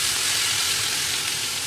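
Carrots and garlic sizzle loudly and steadily in a hot pan, a dense frying hiss filling the short stretch while being stirred, with no talking.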